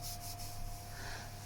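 Sandpaper rubbing over cured fibreglass resin, a steady dry rasping scrape that continues evenly and close up throughout, with a few brighter strokes at the start.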